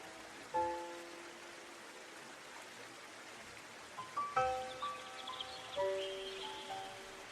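Steady, soft hiss of rain falling outside a window, continuous and even, with faint tonal notes of soft background music drifting over it.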